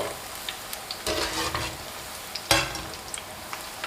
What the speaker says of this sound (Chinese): 炸制的过程中，我们不断的翻动，中火慢炸，防止内里熟不透